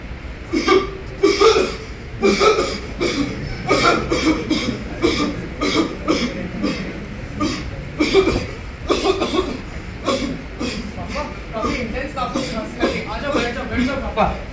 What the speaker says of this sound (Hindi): काफी इंटेंस खांसी लग रही है।